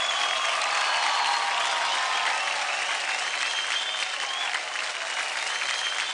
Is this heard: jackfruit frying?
no